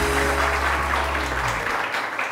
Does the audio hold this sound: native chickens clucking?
no